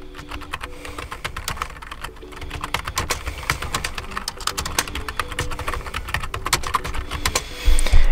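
Rapid typing on a computer keyboard, with dense irregular clicks and key taps running steadily for about eight seconds, close and fairly loud, with no speech.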